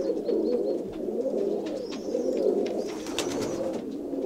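Pigeons coo in soft, repeated rolling calls through a steady murmur, with a few higher chirps and no talking.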